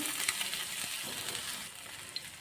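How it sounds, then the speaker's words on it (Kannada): Cumin seeds, mustard seeds and ginger frying in hot oil for sabakki upma, a steady close crackling sizzle with small pops throughout, no voices. "ಅದೇ ಎಣ್ಣೆಗೆ ಒಂದು ಅರ್ಧ ಟೀ ಸ್ಪೂನ್ ಜೀರಿಗೆ, ಅರ್ಧ ಟೀ ಸ್ಪೂನ್ ಸಾಸಿವೆ, ಸ್ವಲ್ಪ ಶುಂಠಿ ಹಾಕ್ಕೊಳ್ತಾ ಇದ್ದೀನಿ"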